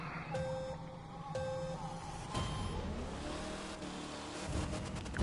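A full-size Hummer's engine revs in The Crew 2 racing game, a droning motor rising through several gear-like pitch sweeps, close and steady.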